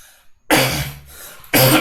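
Two harsh, loud coughs burst out close by, the first longer and rasping, the second starting sharply after a brief pause.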